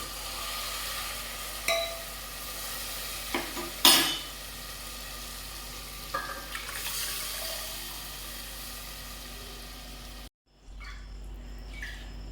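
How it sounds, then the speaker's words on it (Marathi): Cooked dal poured into a hot pan and stirred, a steady moderate sizzle with a few louder splashy bursts and scraping, close by, cut short near the end, with no talking. "नंतर त्यात शिजलेले वरण टाकून द्यायचे."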